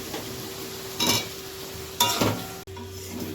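Spice paste frying in oil in a pan for a fish and potato curry, with a soft sizzle underneath and two brisk bursts of spatula scraping and stirring.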